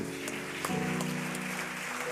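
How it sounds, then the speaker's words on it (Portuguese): A church congregation applauds at a worship service, a steady wash of clapping filling the space for about two seconds while sustained musical tones hold underneath. "Graças a Deus, aplaudam a Jesus."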